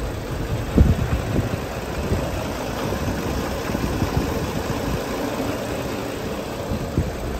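A steady 1980 Toyota Land Cruiser FJ40 engine idle rumbles close by with a low, even chugging, heard alone without voices.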